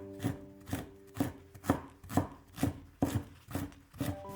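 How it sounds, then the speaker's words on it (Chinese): A knife slices fresh ginger into thin strips on a cutting board, about nine crisp, evenly spaced chops close up in a quiet kitchen. "一块生姜先切成薄片，再切成姜丝。"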